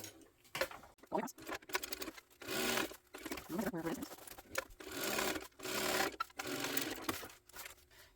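A sewing machine stitches a seam on a crossbody hip bag in several short bursts separated by pauses, loud and close, with faint handling noise between runs.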